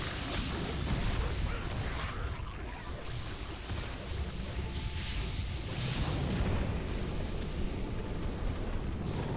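A continuous roaring, rumbling blast from a bomb explosion in an online video game, dense and sustained throughout with a broad wash of noise and no talking.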